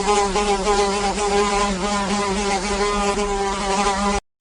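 A housefly buzzes in one steady, loud, close drone that holds for about four seconds and then cuts off abruptly, with no other sound around it.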